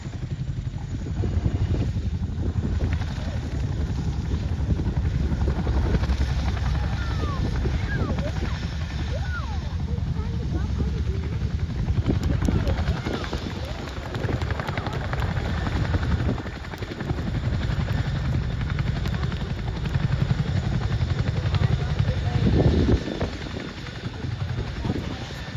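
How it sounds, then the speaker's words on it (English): Chinook helicopter at an RAF Cosford airshow, its tandem rotors thudding loud and continuous as it slows to a stop on its rear wheels, with a heavy engine whine throughout and distant outdoor ambience. "you'll see the tandem rotors of the Chinook used to bring the aircraft to a complete stop"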